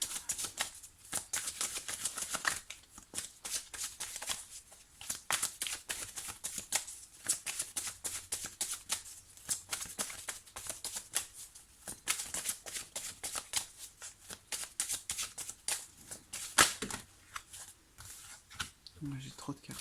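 Tarot cards being shuffled by hand in rapid, repeated riffling bursts, close and fairly quiet, with soft crisp card flicks running steadily through the whole stretch.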